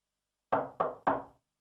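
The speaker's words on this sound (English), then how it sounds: "There was a knock at the door." Three sharp knocks on a wooden door in quick, even succession, close and distinct, with silence before and after.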